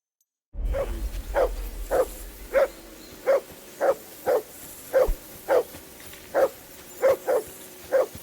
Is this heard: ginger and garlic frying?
no